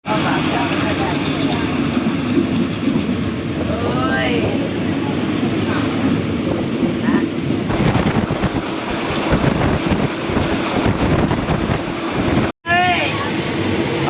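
Ordinary northbound Thai train no. 201 from Bangkok to Phitsanulok pulling into Ayutthaya station, a steady loud rumble of wheels on rail with brief squeals, with platform noise and a clear public announcement voice over it.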